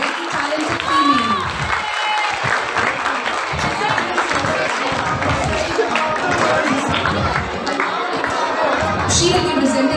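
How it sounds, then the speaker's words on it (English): An audience at a school festival applauds steadily for a woman called to the stage, a dense, sustained round of clapping with scattered voices and children calling out in the crowd. "let us give a huge round of applause"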